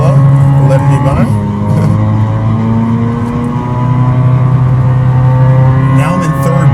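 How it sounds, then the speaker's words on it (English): Steady, loud droning exhaust note from a Corvette C8 Z06 fitted with an AWE SwitchPath exhaust, driving on a canyon road, holding a deep hum with rising harmonics as the engine pulls, with a voice talking over it. "I love listening to this exhaust"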